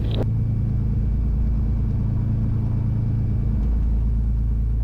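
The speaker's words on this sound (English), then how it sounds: "Twin Cessna 771 Bravo Charlie is departing runway 27 to the north" Twin-engine Cessna aircraft departing runway 27 fills the cabin with a steady, loud, low engine rumble and drone, continuous throughout with no voices.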